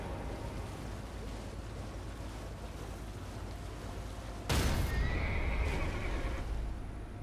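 Torrent, the spirit horse in Elden Ring, gives a loud, sudden whinny that rises out of a busy game soundscape of rumbling ambience, then fades over a couple of seconds.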